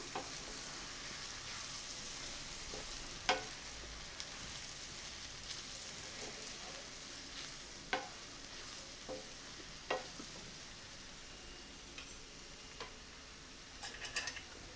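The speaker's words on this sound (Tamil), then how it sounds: "மஷ்ரூம் போட்டோடனே வந்து அடுப்பை சிம்மில் வச்சுடுங்க இல்லைன்னா அடி பிடிச்சிரும்" Sliced mushrooms fry in a pan over a low flame, giving a steady soft sizzle throughout with scattered sharp ticks and light stirring clicks.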